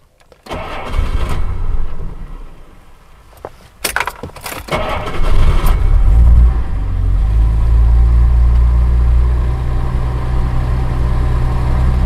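A Jaguar XJ Series 1 being started with a key: jangling keys and clicks, a short cranking burst, then the engine catches and settles into a steady, fairly loud idle.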